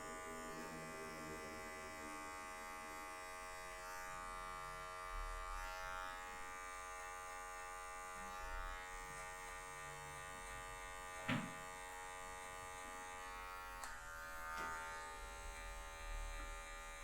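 Electric hair clipper trimming afro hair with just the tip of the blade for a low social cut, a steady close buzz with brief scraping bursts and no talk.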